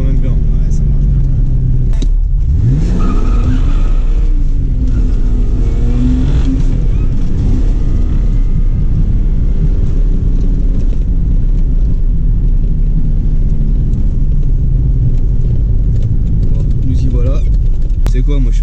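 A loud, close engine from an engine-swapped BMW E30 drift car runs steadily with rumbling revs and rising pitch sweeps, under bursts of talk.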